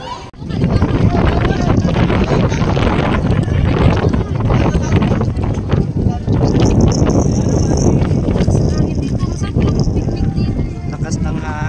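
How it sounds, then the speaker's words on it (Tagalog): Strong gusting wind roaring across the Cloud9 hanging bridge, a loud, constant buffeting rush against the microphone that runs nearly the whole time, with a voice briefly heard over it. "Lakas ng hangin."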